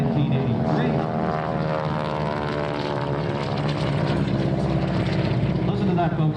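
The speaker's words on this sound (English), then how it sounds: "Listen to that, folks. Nothing else in the world sounds like a T-6." T-6 propeller airplanes fly past at a military airshow, a loud, continuous buzzing engine drone with a growling propeller tone that holds steady, alongside a voice speaking.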